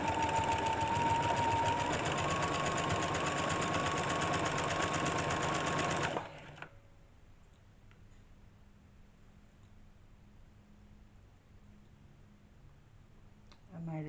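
A sewing machine fitted with a walking foot stitches a blind hem on a garment, running loud and steady for about six seconds, then stopping and leaving a faint hum and light handling noises.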